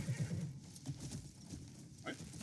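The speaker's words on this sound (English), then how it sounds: "Why am I taming a horse now?" A horse in a video game whinnies and snorts amid hoof clatter, game ambience and a voice speaking over the scene.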